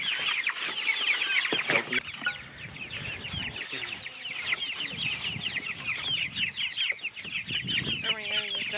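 Chickens cluck and chatter steadily in a chicken tractor on a homestead, a busy flock close by with overlapping calls and a few sharper squawks throughout.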